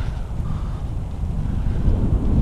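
Gusty Santa Ana wind, over 20 mph at a local park, buffets the microphone with a constant low rumble that swells slightly in gusts, loud and close, with no one speaking.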